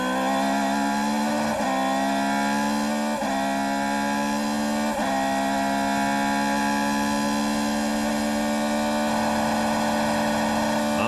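Formula 3000 race cars at the Nürburgring downshift for a chicane, a loud high-pitched engine wail dropping in steps through several gear changes and then holding a steady whining note.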